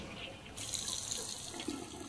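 A bathroom tap turns on about half a second in and runs steadily to the end, a constant hiss of water into a sink, heard faintly from beyond a closed door.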